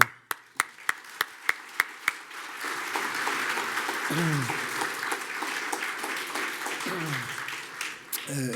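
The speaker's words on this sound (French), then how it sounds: "Camille André qu'on va applaudir." Applause from an audience at an award ceremony for a natural-catastrophe research prize: a few distinct early claps swell into a sustained, fairly soft round of clapping from a seated crowd, with faint voices underneath.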